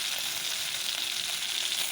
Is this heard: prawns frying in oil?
yes